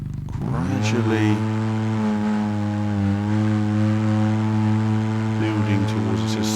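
Engine in the Overpass video game revving slowly and steadily while a vehicle works for traction climbing a hill, a low droning harmonic tone that holds fairly even with slight pitch wavers, loud and close throughout.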